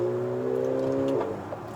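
A Mercedes GLA45 AMG revs under acceleration with a strong, steady engine drone, then shifts with a short crackle as the note drops away. The sound is close and loud, with no speech.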